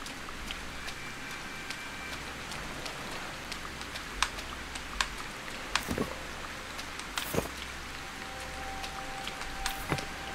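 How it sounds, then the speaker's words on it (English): Steady rain patters down across a video game landscape in Sengoku Dynasty, a constant wash of drops with occasional sharper taps standing out over the even hiss, no voices. "It is raining."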